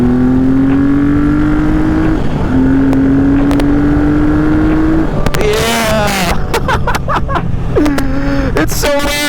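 A 1978 Yamaha XS750 motorcycle accelerating on a ride, its engine rising in pitch through the gears with shifts between, loud and close with wind rush and a rider's voice mixed in.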